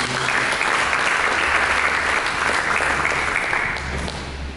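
A church congregation claps together after a sermon, steady dense applause held for several seconds at full strength before easing slightly at the end, with no talking over it.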